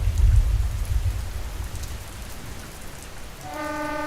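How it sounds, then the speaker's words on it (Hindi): Heavy rain pours on a stormy night, a steady hiss of drops with a low rumble early on, and a faint tonal drone rises near the end. "उधर बारिश भी थमने का नाम नहीं ले रही थी।"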